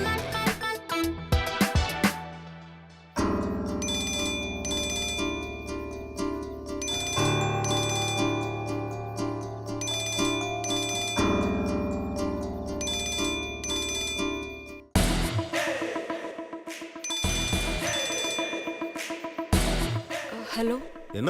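A phone ringtone rings in a Tamil TV serial scene, a bright looping electronic melody with bell-like tones that plays on for some twenty seconds, restarting partway through, with brief voices mixed in.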